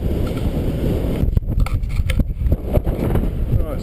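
Strong wind whips across an open reservoir in the Brecon Beacons on the Pen y Fan horseshoe, a loud, steady roar buffeting the microphone with gusty bursts.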